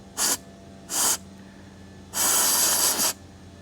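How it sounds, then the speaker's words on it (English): A handheld sprayer squirts cleaner into a car's throttle fan, with two short bursts followed by a longer continuous spray and a brief final puff, all close and hissing. "if I take my sprayer and I just kind of shoot it in there"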